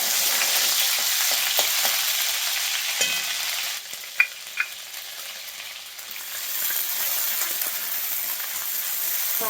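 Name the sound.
chopped onion and coriander frying in hot oil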